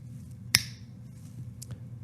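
A single sharp finger snap rings out clearly, followed by a fainter click, over a quiet room hum.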